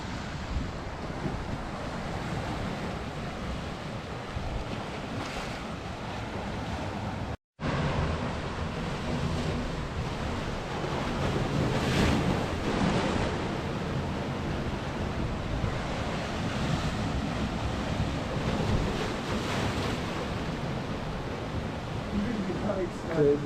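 Ocean waves roll in on a wild coast, a continuous wash of surf and wind buffeting the microphone, with a brief dropout and louder surges later, while a person talks over it.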